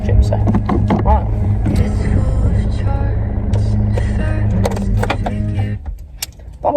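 Car being driven, a loud steady low engine and road rumble with occasional jingling and clicks inside the cabin, easing off near the end.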